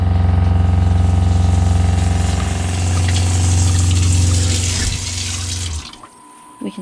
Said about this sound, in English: Pump is not too terribly loud, and it doesn't vibrate too much.